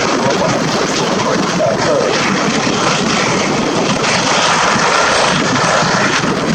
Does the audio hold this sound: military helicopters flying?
yes